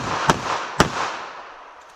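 Two sharp, loud pistol shots from a two-handed grip crack about half a second apart, each followed by a short decaying echo, with no voices.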